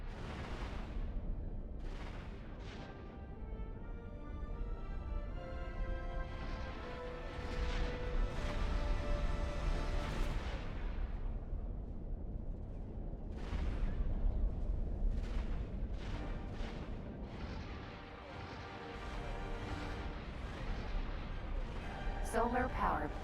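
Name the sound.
explosion in the space game X4 Foundations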